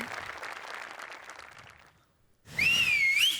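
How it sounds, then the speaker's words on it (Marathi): Applause and cheering from a live comedy-show audience fade out, then after a brief pause a loud, wavering human whistle rings out over renewed crowd noise. "ये बात ही शिट्टी होती ओमकार आणि नम्रतासाठी"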